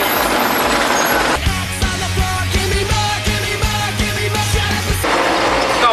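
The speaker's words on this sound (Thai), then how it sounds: "ขับสวนกับรถตักอีกหนึ่งคันนะครับ" A wheel loader drives past on a work site, its loud diesel engine droning with a strong low harmonic hum that swells in the middle then falls away, over a continuous broadband roar with no talk.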